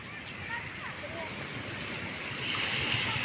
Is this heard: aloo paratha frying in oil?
no